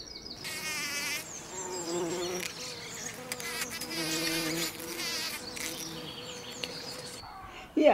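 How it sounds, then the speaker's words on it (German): Bumblebees drone with a low, wavering buzz that swells and recedes as they move around nearby, with faint chirping behind. "Oder dicke Hummeln brummen."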